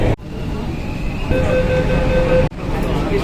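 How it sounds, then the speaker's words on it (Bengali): A Kolkata metro train pulling out of an underground station: a steady, loud interior rumble with a thin whine rising partway through and a brief dip in noise, heard from inside the carriage. "ট্রেন ছেড়ে দিল"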